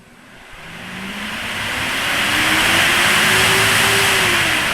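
Dual SPAL brushless electric radiator fans in a shroud being tested under PWM control, whirring steadily as they spin up, with a rising hum and broad airy rush that swells and holds near and loud.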